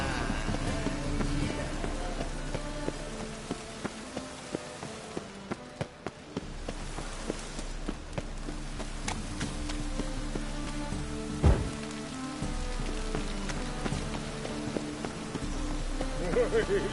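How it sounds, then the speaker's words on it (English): Steady rainfall in a PS4 video game, a continuous hiss of drops pattering on surfaces, running throughout under game music and scattered clicks. "Rain, I like rain."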